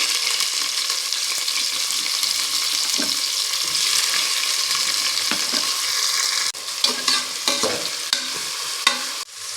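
Onions stir-fried in hot oil with cloves, cardamom and other whole spices for a mushroom biryani: a loud continuous sizzle that drops away toward the end, leaving scattered stirring clatters, no talk.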